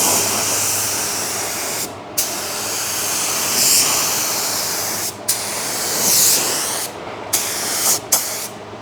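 A spray gun lays a wet coat of high build primer mixed as a sealer onto a car body, making a loud, steady hiss broken by several brief pauses as the trigger is released and squeezed again.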